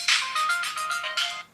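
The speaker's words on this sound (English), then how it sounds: "And my phone is going off in a video." A mobile phone ringtone goes off indoors, a bright electronic melody of repeated tones ringing clearly and alone for about a second and a half.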